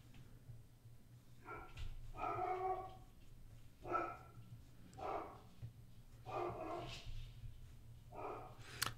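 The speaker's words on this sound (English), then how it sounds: "Sorry if you hear my dog barking." A dog barks in a string of separate woofs and yips, roughly one every second, against a steady low indoor hum with no talking.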